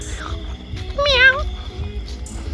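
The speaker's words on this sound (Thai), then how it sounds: "นี่แมวเยอะมาก" A cat lets out a single clear meow, rising and falling in pitch, at a cat house, set against low background rumble and people chatting nearby.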